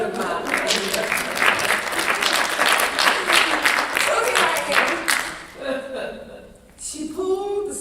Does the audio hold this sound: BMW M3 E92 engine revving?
no